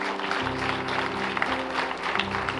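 A church congregation claps together during a service, brisk applause over sustained steady tones underneath, fairly close and continuous.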